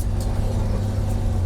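An old car engine that had not been driven since 1991, with no brakes, rumbles steadily close up on a dirt road in second gear, its loose exhaust rattling continuously with no voices.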